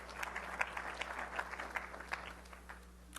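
An audience at a technical conference talk gives light, sparse, distant applause, a scattering of soft claps that fades out near the end.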